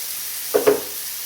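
Chicken fries in a pan for crispy skin, a soft steady hiss of hot oil broken by two quick louder sizzles close together.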